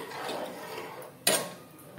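A spoon scrapes and clinks against a pot of tomato rice mixture, giving one sharp metallic knock followed by faint scraping, close and fairly quiet with no talk.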